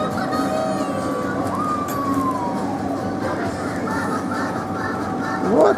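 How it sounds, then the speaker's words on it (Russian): Siren signal on a ride-on toy vehicle at a children's entertainment centre, a wavering electronic wail running steadily throughout amid indoor play-area noise, ending in a short chirp. "А здесь сигнал работает, Кристинушка?"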